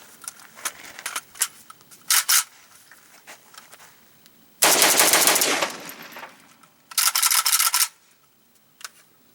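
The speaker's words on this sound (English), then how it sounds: "I'm going to go ahead and run the rest of the ammo out of both these magazines" An AK-47 rifle fires rounds from a Tapco magazine during a magazine test: scattered loud single shots, then two long, harsh rapid bursts with a short gap between them, and no talking.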